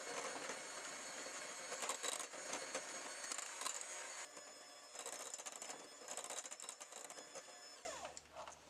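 An electric mixer whips cream to stiff peaks with a continuous, faint whirring buzz and a rhythmic mechanical rattle, briefly changing tone near the end.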